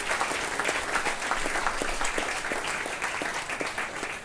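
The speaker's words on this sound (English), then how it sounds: "So give them a round of applause." An audience at a jazz club applauds warmly, a dense, even clatter of many hands sustained for several seconds at moderate loudness, with no talking.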